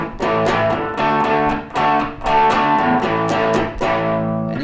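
Distorted electric guitar plays a funky, extended power chord progression in rhythmic strummed bursts, loud and close, alone without any talk.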